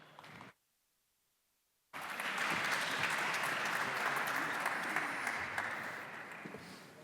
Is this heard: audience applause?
yes